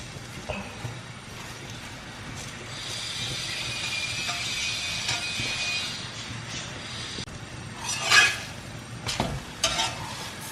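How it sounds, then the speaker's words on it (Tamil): Radish paratha fries on a pan over medium-low flame with a steady soft sizzle, joined by a few scraping, flipping clatters toward the end, close and quiet. "ஓரளவுக்கு மீடியம் டு லோ ஃப்ளேமில் வச்சு நல்லா 2 பக்கமும் கோல்டனாக ஆகிற வரைக்கும் ஃப்ரை பண்ணி எடுத்துங்க"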